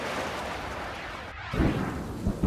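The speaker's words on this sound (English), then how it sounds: "The storm that swept through Brisbane, concentrating itself on Woolloongabba and on the cricket ground." A thunderstorm over the cricket ground at Woolloongabba in Brisbane: steady rain hiss with a deep rumble of thunder swelling near the end, fairly distant and without voices.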